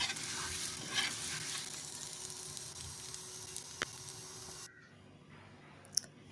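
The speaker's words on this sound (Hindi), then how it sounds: "किनारों तक से अच्छी तरह से सेक लेंगे, दबा दबा के, ताकि कहीं से भी कच्चे ना रहें" Steady sizzling and frying of a green paratha pressed down on a hot griddle, with occasional scraping taps, fading to near silence toward the end.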